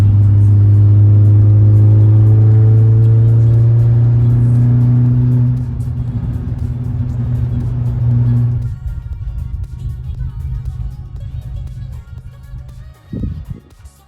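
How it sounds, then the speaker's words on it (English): A car travelling fast on a toll road, heard from inside as a loud, steady engine drone that shifts midway into a broader rush of road and wind noise, ending with a brief bump. "now that we're on the toll road, we can actually go a lot faster now"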